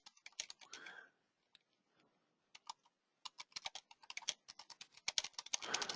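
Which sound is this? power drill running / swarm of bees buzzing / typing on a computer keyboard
typing on a computer keyboard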